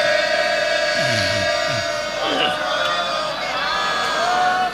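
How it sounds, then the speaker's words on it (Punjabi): A Sikh congregation at Takhat Sri Harimandir Ji, Patna Sahib, shouts a jaikara, with loud rising crowd voices over a sustained amplified drone and a lead voice calling. "ਇੱਕ ਜੈਕਾਰਾ ਹੋਰ ਵੀ ਬੁਲਾ ਦਿਓ"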